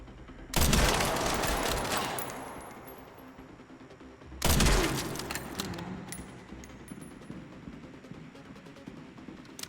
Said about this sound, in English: You didn't have to open fire the moment I entered.